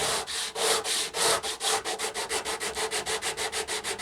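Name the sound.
sanding guitar fretboard during refret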